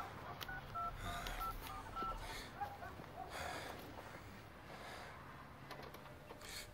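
A phone number is keyed in, a string of short separate DTMF beeps in an irregular rhythm, quiet and close over a low room hum, with faint talk at moments.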